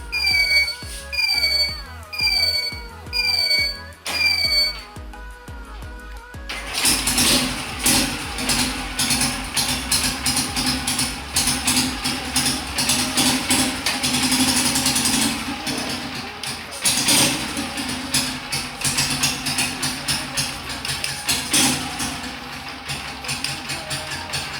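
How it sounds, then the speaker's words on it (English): A motorbike engine catches after several seconds of sharp repeated electronic beeps, then settles into a steady, close, rough idle with a mechanical clatter that runs to the end. "Now I can start my bike."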